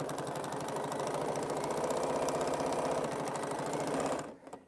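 A sewing machine stitches a fabric bowl, running in a steady, close, rapid mechanical buzz that stops abruptly near the end.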